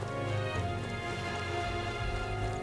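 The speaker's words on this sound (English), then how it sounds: "This bloody rain." Steady rain hissing in the video game Metaphor: ReFantazio, a dense even wash with soft low rumble and faint tonal music-like layers underneath, continuous with no voices.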